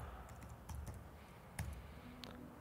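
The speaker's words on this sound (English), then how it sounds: "and I will type wiggle" Light typing on a computer keyboard while working in Adobe After Effects, a quick run of soft, irregular key clicks, faint and close, with no talk.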